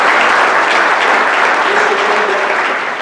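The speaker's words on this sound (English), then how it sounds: "let's give them a round of applause for being here" An audience at a business luncheon applauds the candidates, a loud, dense burst of clapping that holds steady for about three seconds and starts to taper at the end.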